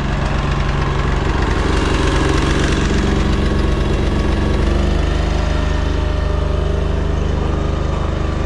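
A heavy haul truck engine idles at night at a project site, a loud, close, steady diesel drone with a constant low rumble throughout and no talk.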